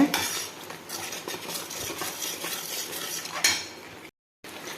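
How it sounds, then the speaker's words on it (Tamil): Masala paste is sautéed with salt in a pan, with a spoon scraping and knocking against the metal and a soft sizzle underneath, then a sharper clatter and a brief silence near the end. "ரெண்டு நிமிஷம் நல்லா வதக்கிக்கிடுங்க தேவையான அளவு உப்பு போட்டு நல்லா வதக்கி விடுங்க"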